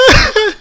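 A single loud, close cough, sharp and brief, followed by a short second burst, in ARMA 3.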